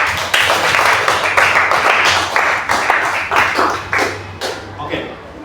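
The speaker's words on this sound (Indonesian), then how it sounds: "Tepuk tangan untuk kalian semua." Students clapping in a Catholic religion class, a dense patter of many hands that stays steady and fairly close, then thins and fades toward the end.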